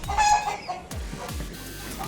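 Several chickens, including Polish cap, Polish frizzle cap and Faverolles breeds, cluck and chatter nearby at a petting farm, overlapping short calls over a faint farmyard background.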